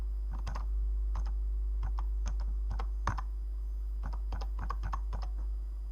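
Keystrokes on a computer keyboard while naming a departure station in Train Simulator Classic, short irregular clusters of crisp clicks over a constant low electrical hum, close and alone without speech.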